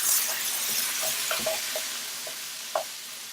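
Chunks of lamb being stirred in a pot for stew, giving a steady soft sizzle with light scraping and a few faint clinks of the spoon against the pot.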